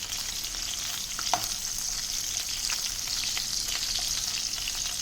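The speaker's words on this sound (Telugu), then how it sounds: "ఉప్పు చేప, టమాటా, వంకాయ కర్రీ అన్నమాట. వేగుతుంది." Salt fish, tomato and brinjal curry frying in a pan gives a steady, close sizzle that holds level throughout, with faint stirring scrapes.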